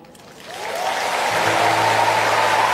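A crowd at a healing service breaks into applause, starting thin and swelling within a second into dense, loud, sustained clapping that fills the space, with faint cheering tones rising underneath.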